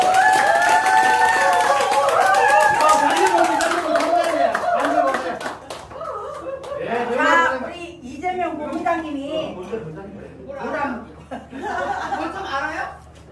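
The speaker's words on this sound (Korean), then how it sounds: "박수 주세요" A crowd at a Korean volunteer group's team-building gathering bursts into dense applause and clapping, loud and sustained at first, then fading into chuckles, laughter and chatter from the audience.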